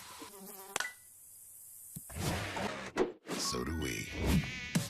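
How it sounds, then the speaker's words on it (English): Mosquito buzzing as a sound effect in a Terminix pest-control ad, a thin whining drone heard briefly before a voice speaks, then mixed under ad music and talk. "Mosquitoes show up,"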